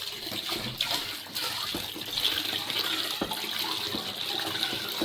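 Liquid detergent mixture poured into a larger batch of homemade detergent, giving a steady watery splashing and trickling stream that runs close and fairly loud from start to finish, with no voices.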